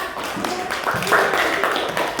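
A classroom of students claps hands together, a busy mix of claps from many pupils with some voices talking over it.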